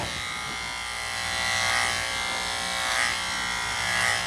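Andis electric clippers fitted with a number 1 half-inch comb buzz steadily while trimming a Morkie dog's head, a moderately quiet hum with slight swells as the blade moves through fur.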